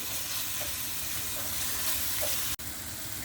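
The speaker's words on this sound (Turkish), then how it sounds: "Salçamızı mutlaka kavuruyoruz ve lezzetin ortaya çıkması için." Tomato paste fries in a pan with a steady, dense sizzle throughout, close and moderately loud, broken near the end by one sharp brief knock or scrape.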